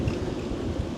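Hurricane Ernesto's gale-force gusts roar across a moored boat in the US Virgin Islands, a dense, steady low rumble of wind buffeting the microphone, loud and continuous with no speech.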